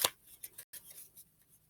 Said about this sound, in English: Am I shuffling too good?